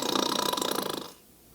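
A person imitates a bear's loud snore during a children's story time: a rough, rattling snort with rapid pulsing for about a second, then it trails off into quiet breath.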